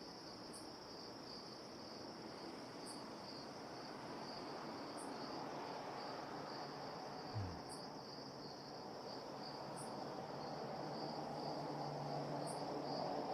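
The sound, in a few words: crickets chirping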